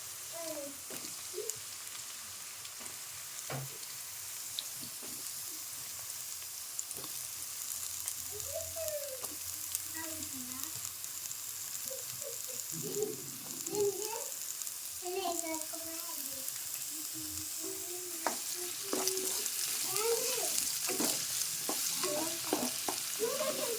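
Bottle gourd pieces fry with softened onions in a pan, a steady sizzle running throughout with scraping stirs; a voice talks intermittently over the cooking.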